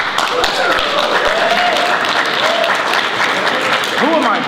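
Audience applause fills a convention Q&A panel at an anime fan event, a steady wash of clapping with a voice talking over it and a few sharp taps near the microphone.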